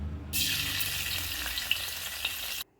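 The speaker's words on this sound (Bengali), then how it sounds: "তেলের মধ্যে যেটা দেওয়া হলো সেটা হচ্ছে চাল যেটাতে আমরা ভাত রান্না করি" Rice grains dropped into hot oil burst into a loud, close sizzle that holds steady with a couple of sharper crackles, then stops abruptly.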